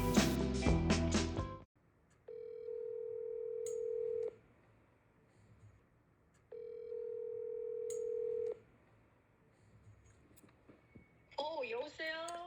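A telephone call being placed: quick dialing tones at the start, then two long steady ringback tones separated by silence, fairly faint and clean, before a voice answers at the end.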